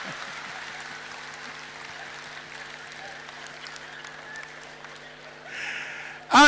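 An audience at a stand-up comedy show applauds in a steady, sustained patter of clapping that swells into a louder burst at the very end.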